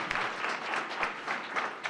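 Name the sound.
audience clapping for the judges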